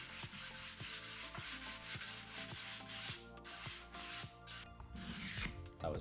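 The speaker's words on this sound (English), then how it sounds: "My favorite part of every project, sanding." Wood being sanded for floating nightstands: quiet, rhythmic rasping strokes repeat back and forth at a steady pace, close up and alone.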